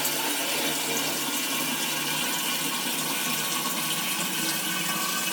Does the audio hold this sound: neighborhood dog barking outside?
no